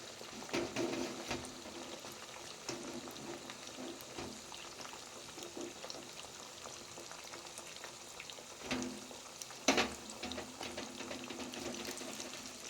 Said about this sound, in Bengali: খুব ভালো করে নাড়াচাড়া করে বেশ খানিকক্ষণ ভাজবো।